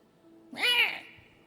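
A person gives a single short, nasal cawing cry, imitating a crow's call, rising and fading within about a second.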